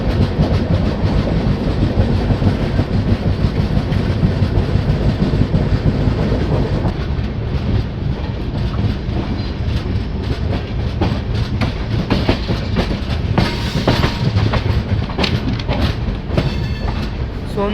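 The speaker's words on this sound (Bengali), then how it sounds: "ট্রেন ধোলপুর স্টেশনের কাছাকাছি পৌঁছে গেছে।" The Chambal Express, a Howrah to Agra train, runs at speed near Dholpur station in Rajasthan, giving a loud, continuous rumble with rhythmic clickety-clack of the wheels and no voices.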